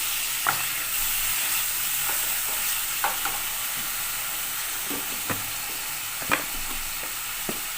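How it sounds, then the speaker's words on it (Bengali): Chopped onion, tomato and green chillies frying in oil in a pan for homemade pasta, with a steady hiss and scattered scrapes and clinks of a spatula as the mix is stirred, close up and with no voices. "পেঁয়াজ কুচিটা দিয়ে একটু এক মিনিট নাড়াচাড়া করে নেব"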